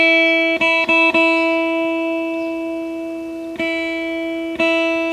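A Peterson strobe tuner spinning gives a steady electronic drone with stacked harmonic tones humming continuously, broken by a few soft clicks near the start and two later.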